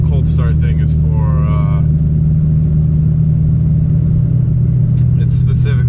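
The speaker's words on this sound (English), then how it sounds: "That's how the car sounds normally." A BMW E92 M3 engine idles steadily after a cold start, a low even drone throughout while someone talks over it.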